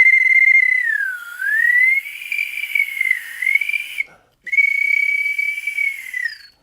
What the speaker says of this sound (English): It's a swanny whistle